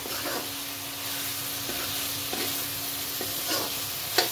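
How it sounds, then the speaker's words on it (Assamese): Whole spices frying in a pan for an Assamese duck curry with pumpkin and potato, a steady close sizzle and hiss with a few soft stirring scrapes, no voices. "মছলাখিনি ধুনীয়াকৈ ভাজ খাই গৈছে।"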